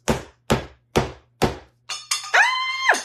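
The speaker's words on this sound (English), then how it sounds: "I just started banging it against the counter." Four evenly spaced hard knocks of a refrigerated dough can banged against a kitchen counter, each sharp and close, followed by a higher squeaky, ringing sound as the can gives way.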